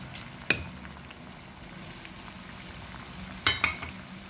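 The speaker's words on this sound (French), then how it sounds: "Nous avons déjà nos deux ingrédients de base qui sont en train de bouillir." A mixture with bissap boiling in a cooking pot, a soft steady bubbling hiss broken by a few sharp clinks of a utensil against the pot.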